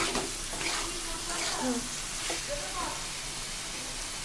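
Spices with turmeric sauté in a pan for a shrimp and cucumber dish, a soft steady sizzle with occasional stirring scrapes, while a voice talks over it.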